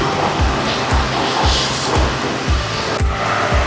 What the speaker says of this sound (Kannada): ಇಲ್ಲಿ ನೋಡ್ರಿ ಹೆಂಗೆ ಹೊಡ್ಯಾಕತ್ತಾರೆ ನೀರು